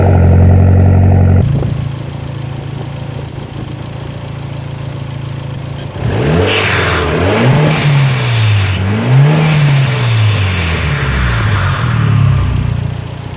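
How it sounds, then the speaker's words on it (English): A car engine idles, then revs repeatedly in rising and falling surges with hissing blow-off valve releases between pulls, loud and close, with no voices. "I'm gonna go film you guys some sound clips of the blow valve."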